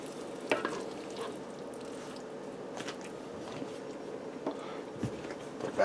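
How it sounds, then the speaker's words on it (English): A spoon stirs cheese through sausage pasta in a non-stick pot, giving soft, steady wet squelches and scrapes with a few sharper clicks against the pot, close up and fairly quiet. "I'm just going to bring in the sides and blend that cheese through."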